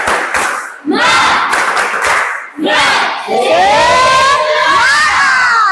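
A group at an Indonesian teacher-training session performs a tepuk semangat chant, loud rhythmic clapping mixed with energetic shouted voices, close and continuous with a brief dip midway.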